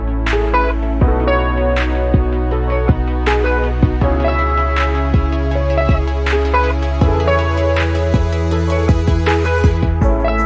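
A steady future bass electronic drum loop with sharp claps on a regular beat, deep thumping kicks clashing with a low bass, washed in a long reverb tail.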